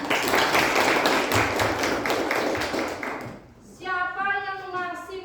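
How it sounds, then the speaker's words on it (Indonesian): Students in a classroom clap for a classmate, a brisk burst of hand claps from a small group lasting a few seconds before a voice takes over. "Tepuk tangan buat temannya."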